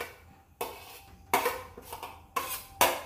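Grated squash and carrot are mixed into okoy batter in a bowl, and a utensil knocks and scrapes against the side in four distinct clattering bursts separated by short pauses.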